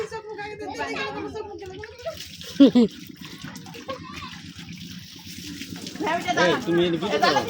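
Water poured and splashing during a turmeric bath for a younger brother before his wedding, with several people talking and calling out over the intermittent splashes close by.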